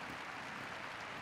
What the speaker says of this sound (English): To a round of applause by the fans.